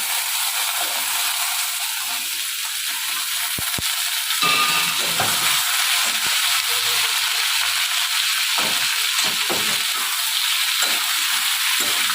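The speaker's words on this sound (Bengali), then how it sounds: "এবার আলু আর ঝিঙেটা দিয়ে দিচ্ছি" Potato and ridge gourd pieces hiss and sizzle in hot oil with browned onion, a steady close frying crackle broken by occasional stirring clicks and scrapes.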